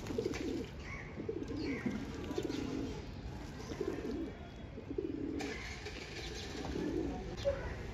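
Pigeons cooing in repeated soft, throaty phrases at mid distance on a sunny rooftop loft, with faint chirps from other birds in the background.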